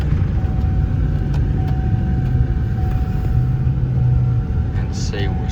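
A truck driving in tow haul mode, with a suspected torque converter fault, gives a steady low engine and road rumble heard from inside the cab throughout, with a faint whine above it.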